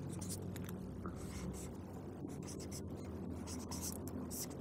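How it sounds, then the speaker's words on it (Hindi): A pen writes an answer on paper in short, close scratchy strokes that come in quick bursts and brief pauses over a faint steady background hum. "तो हम यहाँ उत्तर लिखेंगे"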